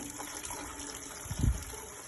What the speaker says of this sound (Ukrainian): Вижимаємо водичку, водичка біжить